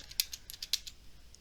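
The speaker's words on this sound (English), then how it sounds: "But if you start typing in a word" Quiet keystrokes on a computer keyboard while entering a search word in Microsoft Outlook, a short run of light, irregular clicks alone with no talk.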